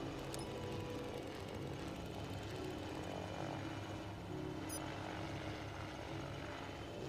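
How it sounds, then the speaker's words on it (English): An unmanned drone in Batman Arkham Knight, a steady low rotor drone hum holding constant and faint throughout with a couple of tiny high clicks. "Those soldiers are using an unmanned drone"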